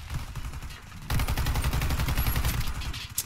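Sustained automatic fire from an MSBS Radon rifle in the video game Warface: a fast, loud rattling burst begins about a third of the way in. Scattered shots and game noise come before it, and nobody speaks.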